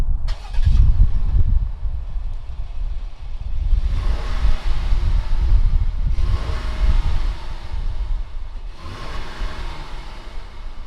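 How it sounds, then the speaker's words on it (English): A 2019 Jeep Grand Cherokee Limited X V6 engine cranks and catches, then settles into a steady idle with a few revs rising and falling, loud and close, with some wind noise. "fire up this V6 and see what it sounds like"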